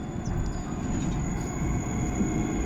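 A tram in Wroclaw, Poland passes with a faint, steady low rumble and a thin high whine over distant city background, sustained and fairly even throughout.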